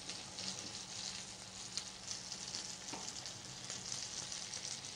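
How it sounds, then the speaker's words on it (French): Salted cream just beginning to boil in a pan. A faint, steady bubbling hiss carries through with small occasional pops and light clicks. "j'attends que la crème se mette en ébullition"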